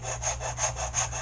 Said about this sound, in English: I'm sanding off this CA that I put on this one by accident